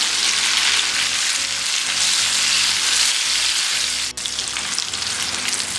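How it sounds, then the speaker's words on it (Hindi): Chopped tomato and onion fry in oil on a tawa for a mutton chanp gravy. A loud, steady, dense sizzle runs throughout with no talking, broken only by one brief sharp click near the end. "1 मिनट के लिए इसको भी इसके साथ फ्राई कर लेंगे।"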